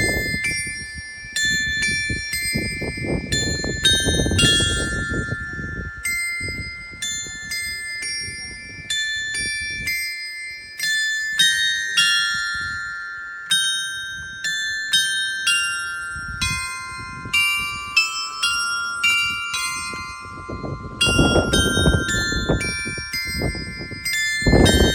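Village bells in Hungary chiming a melodic quarter-hour tune, clear ringing tones in sequence with lingering decay, moderately near, over faint rustling background and no talk.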